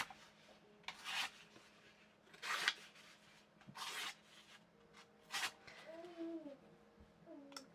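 Knife blade drawn through a Warthog knife sharpener in five or six short, rasping strokes spaced about a second apart, close and fairly quiet, with a faint brief voice near the end.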